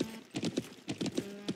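Horse hooves clip-clop in the online game Alicia Online on a sheep farm race course, a quick, uneven run of close hollow knocks with no voices.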